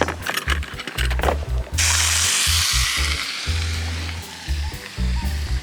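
Pork chops sear and sizzle loudly in a very hot steel pan, a steady broad hiss that swells after a couple of seconds and holds, with occasional soft knocks and clatter from handling the meat.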